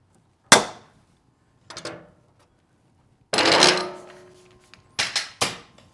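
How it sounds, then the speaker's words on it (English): Pop riveting that semi-permanently fastens a repaired fiberglass rear bumper: a few sharp, separate snaps and clicks, one longer squeezing burst in the middle, then a quick cluster of three pops, close and loud with quiet gaps. "I'm basically just pop riveting this thing on here."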